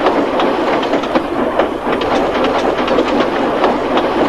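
A train rolls along steadily with a regular clickety-clack of wheels over rail joints and a faint hiss, loud and continuous, no voices.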